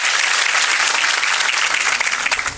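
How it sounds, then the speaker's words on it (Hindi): An audience at a coaching class celebrating Agniveer selections breaks into loud, dense, sustained applause for its teachers, clapping steadily throughout with no speech. "तो एक बार ताली जोरदार उनके लिए।"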